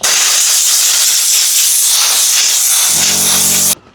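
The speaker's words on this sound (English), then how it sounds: "I need to get a silenced air compressor because god damn that thing's loud" Loud, steady hiss of an air compressor blowing dust from an air filter for several seconds, with a low mechanical hum joining near the end before it cuts off abruptly.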